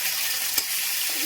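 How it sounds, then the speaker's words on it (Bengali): Steady broadband sizzle of ginger paste and fenugreek seeds frying in hot oil, with a brief soft clink near the middle; no voices. "একটু ভাজা ভাজা করবো"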